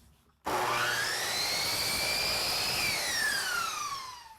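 A miter saw set to a 22.5-degree angle cuts through chair rail molding, a loud close whine that starts abruptly, holds steady, then drops in pitch as the blade slows.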